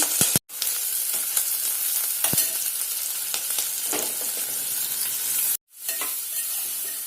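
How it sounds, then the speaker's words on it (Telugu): Green chillies crackle and sizzle in hot oil, a continuous dense frying hiss broken by two brief silent gaps and a few sharp pops, with no talking. "దీంట్లో నూనె వేడెక్కిందండి పచ్చిమిరపకాయలు వేయించుకోవాలి"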